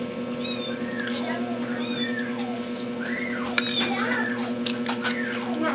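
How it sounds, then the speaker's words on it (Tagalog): A cat meows repeatedly, near and loud, its rising and falling cries cutting through a steady background hum while people talk nearby. "Pusa na yan!"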